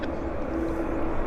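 An airliner taxis at Vancouver International Airport, heard as a steady, distant jet engine drone with a faint low hum that holds level throughout.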